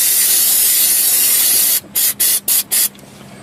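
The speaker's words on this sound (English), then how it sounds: "We're going to give our bolts over here a little spray brake clean." Aerosol brake cleaner sprays onto bolts during a 2011 Nissan Altima CVT fluid change: a long steady hiss, then four short bursts in a quick row, close and loud.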